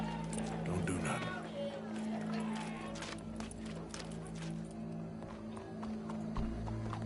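Horse hooves clip-clop in Red Dead Redemption 2, a steady run of hoofbeats set against a sustained low tonal drone, with people talking over them.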